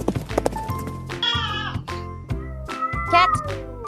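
A cat meows several times in short, clear bursts, close and fairly loud, with a few soft thumps between the calls and no speech.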